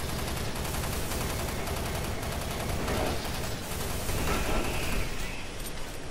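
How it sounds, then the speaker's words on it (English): Sustained machine gun fire in the shooter game Doom 3, dense rapid bursts that stay loud and continuous over several seconds with no talking. "I was trying to use my machine gun"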